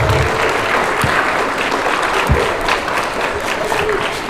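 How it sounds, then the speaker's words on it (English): A school crowd gives loud, sustained applause at a cardboard boat race awards ceremony, with dense clapping that holds steady throughout. "give them another round of applause"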